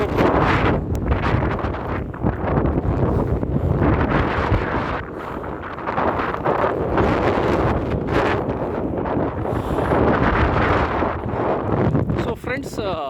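Strong wind buffets the microphone throughout a boat journey, a loud, continuous roaring rumble with gusty surges and no clear pauses.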